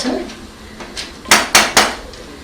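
A metal cooking pot is handled on an open fire, giving three sharp, close clanks in quick succession after a few softer knocks.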